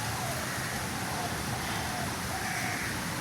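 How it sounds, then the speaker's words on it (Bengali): Steady rain falling under a dark, cloud-heavy sky, heard as a continuous broadband hiss with no breaks, fairly close and even in level. "দেখুন আকাশে কীরকম মেঘ জমেছে আর কীরকম বৃষ্টি হচ্ছে"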